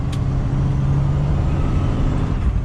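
A 13-speed big truck's diesel engine drones loud and close, a steady low rumble with a brief humming tone as the driver shifts through the gears, and no voices are heard.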